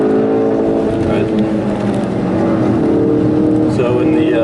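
A 2016 Ford Focus RS engine held at wide open throttle during a hard drive, a loud steady drone with rising harmonic tones running continuously while a person talks over it.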